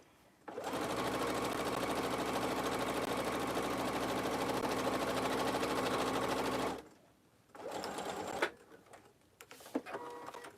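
A sewing machine stitches along the top of a fabric tote in one long, loud, even run of several seconds, then stops, followed by softer handling noises and a brief short burst.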